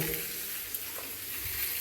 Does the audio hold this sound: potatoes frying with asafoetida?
yes